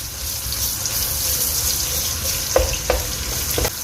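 Two medium chopped onions go into a cup of hot cooking oil in a pot. The oil gives a loud, steady sizzling hiss, and a few sharp pops and clicks come near the end.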